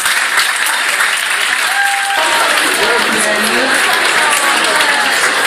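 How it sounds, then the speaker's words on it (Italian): Dense, steady applause from a large audience fills the whole stretch, loud and continuous, honoring the woman who organized a recurring lecture series. "a cui gli va un applauso"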